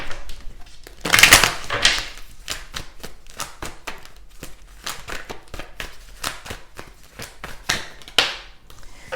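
Tarot cards are shuffled by hand, giving a run of crisp papery clicks and riffles, close up, with one louder burst of flicking near the start.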